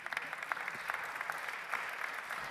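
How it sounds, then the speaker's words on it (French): Steady clapping from an audience, a dense patter of many hands going on throughout, with no talking over it. "oui, vous pouvez l'applaudir"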